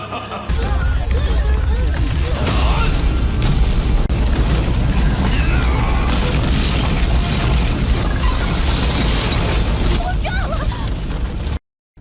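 A heavy, sustained explosion boom from an animated battle destroying an empire roars with deep low rumble and crackling debris for many seconds, then cuts off abruptly.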